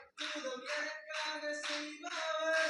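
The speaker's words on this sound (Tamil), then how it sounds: "நல்லா கைத்தட்டி." An audience claps its hands in a steady rhythmic beat over music with a sustained tone, keeping several regular bursts of clapping going throughout.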